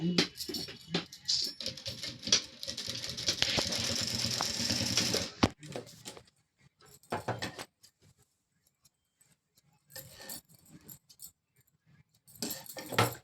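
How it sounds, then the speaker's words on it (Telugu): A sewing machine stitches down the middle of a T-shirt button placket in a steady, loud whirring run for about five seconds. Shorter bursts of stitching follow, separated by quiet pauses and handling noise. "దీనికి మిడిల్లో ఒక స్టిచ్ వేసుకోవాలి ఇలాగా"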